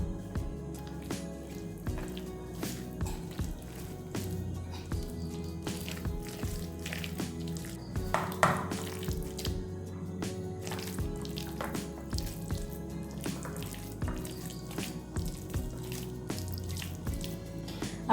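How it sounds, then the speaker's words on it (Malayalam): Prawn masala mixture for Kerala-style prawn ada, with pepper powder and salt, worked together by hand: steady wet squishing and dripping sounds throughout, close and moderately loud, with no talking. "എല്ലാം കൂടെ നമ്മൾ കൈ കൊണ്ട് നല്ല രീതിയിലൊന്ന് മിക്സ് ചെയ്തെടുക്കണം"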